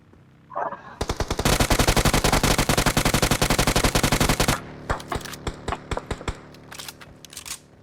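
Rapid automatic gunfire from PUBG Mobile, a loud sustained burst of dense shots lasting several seconds, then scattered single and short-burst shots trailing off, heard alone.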